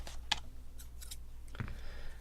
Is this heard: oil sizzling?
no